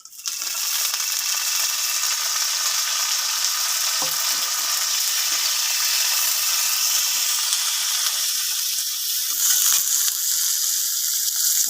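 Fish frying in hot oil with garlic gives a loud, steady sizzle and crackle throughout, close up, with occasional light stirring sounds and no talking.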